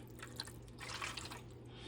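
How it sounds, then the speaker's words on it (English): A cup of chicken broth poured over turkey wings in a baking pan gives soft splashing and dripping, quiet and close, lasting under two seconds. "we're going to actually pour the 1 cup of chicken broth in with our wings"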